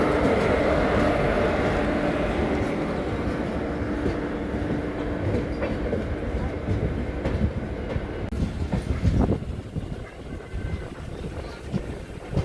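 On the Chittoor to Kacheguda run, the Venkatadri Express passenger train (number 12798) rolls along the rails with a continuous heavy rumble and steady wheel clatter that eases slightly toward the end.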